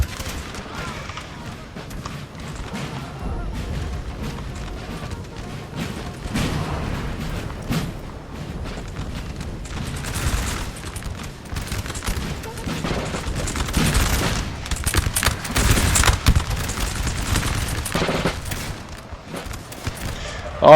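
Musket volleys from massed infantry lines in a Napoleon: Total War battle crackle as dense, overlapping fusillades, heard from a distance and swelling louder midway through, with no talking.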